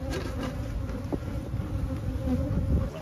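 A densely packed open honey bee hive buzzes loudly and continuously at close range, a steady dense drone with no talking.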